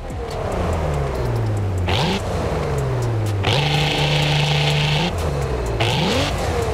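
Cadillac CT4-V Blackwing with a 3.6-litre V6 in Forza Horizon 5, loud and close, revving and accelerating through several gear changes, the engine pitch climbing and dropping sharply between shifts with no talk.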